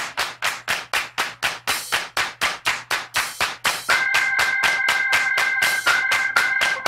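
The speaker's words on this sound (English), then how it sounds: "Clap your hands." Hands clap in a steady, evenly spaced rhythm along to a children's song in a class, crisp close claps roughly twice a second, joined later by a sustained musical tone under the clapping.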